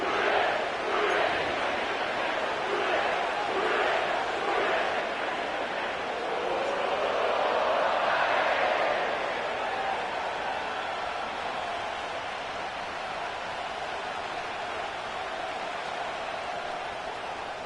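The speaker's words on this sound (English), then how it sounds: "sellout crowd has arrived at Paycor Stadium in Cincinnati" A sellout crowd roars at an NFL football game at Paycor Stadium in Cincinnati, a broad, steady wash of noise heard from a distance with no clear single voices.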